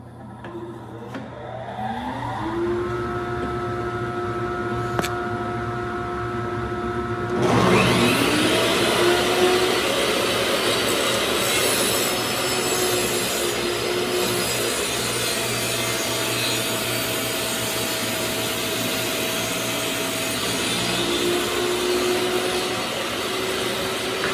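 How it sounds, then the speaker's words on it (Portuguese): A shop vacuum starts up at a table saw set for 45-degree lengthwise cuts, roaring loudly and steadily after a quieter stretch with a faint whine, running continuously to the end. "Ligar aqui o aspirador."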